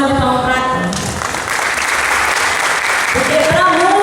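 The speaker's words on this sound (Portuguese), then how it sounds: "Pode dar uma salva de palmas para cá." Audience at a church event breaking into loud applause, sustained dense clapping and cheering, with a preacher's voice speaking over the start and end.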